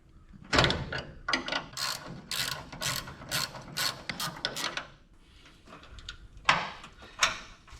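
A ratchet loosens a belt tensioner on a 1961 Chevy wagon, giving a close run of quick, rhythmic clicking strokes, a brief pause, then a few more clicks.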